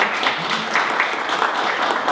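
Audience applause for a doctor in pedagogy introduced at an education event, a steady, fairly close wash of many hands clapping throughout.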